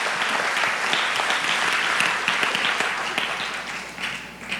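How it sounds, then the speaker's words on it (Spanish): Enthusiastic applause from a large church congregation, sustained clapping that slowly tapers toward the end. "fuerte aplauso al Señor por esas buenas noticias"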